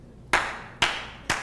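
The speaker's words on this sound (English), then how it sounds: "You clap it back to you" Hands clap out a simple rhythm, three sharp, close claps at an even pace, each with a short ringing decay, with no talking.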